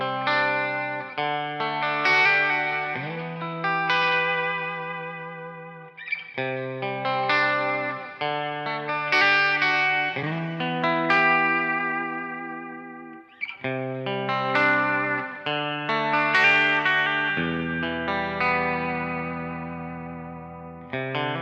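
Electric guitar played through a Quilter Toneblock 202 amplifier, rich chordal phrases with chorus and echo effects, steady and loud, riffs repeating in roughly two-bar cycles with brief pauses between, no voices.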